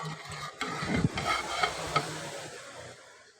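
Ladle scraping and stirring rice chana pulao in a large pot of water for Muharram distribution, a few soft knocks and swishes close by, fading toward the end.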